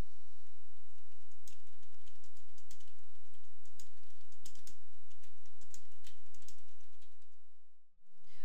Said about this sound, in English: To enter information into the wiki, you simply click and start typing